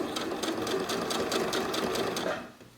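A sewing machine runs steadily, stitching along the edge of a handmade bag without pins, its rapid needle strokes pulsing evenly for over two seconds before cutting off into quiet.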